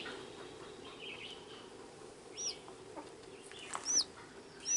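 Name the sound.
hen clucking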